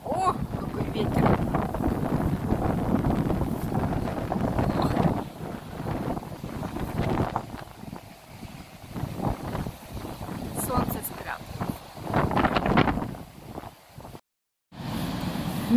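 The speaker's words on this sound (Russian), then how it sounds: "О, какой ветер!" Strong wind buffets the microphone on sandy dunes at a seaside spot, a loud continuous low rumble with gusty swells and brief dropouts, while someone talks intermittently over it.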